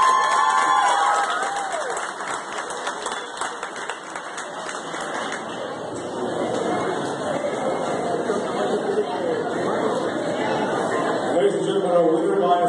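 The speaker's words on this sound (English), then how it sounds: "Let's get these boxers a big round of applause." Audience applause and cheering at an amateur boxing event in Laredo, a steady crowd roar of clapping that swells and lingers for the boxers while an announcer talks over it.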